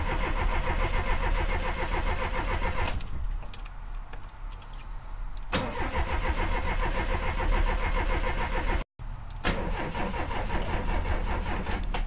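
A Volkswagen engine is cranked repeatedly but fails to start, giving a loud rhythmic starter churn, then a pause with faint rattles, more long cranking runs and a brief cutout.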